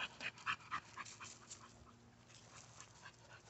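A driven female dog pants and whimpers over a ball outdoors, a few soft close breaths and whines early on, then fading to quiet low panting.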